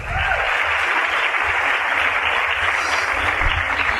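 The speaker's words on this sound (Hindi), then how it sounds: "इसलिए खुद के लिए जोरदार तालियां" Audience at an Amway success seminar gives loud, sustained applause, a dense, even roar of many clapping hands holding steady throughout with no pauses and no talking.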